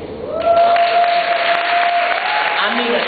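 Women in a comedy club audience applaud and cheer in response to a comedian's question, clapping mixed with a sustained whoop and crowd voices, fairly loud and close.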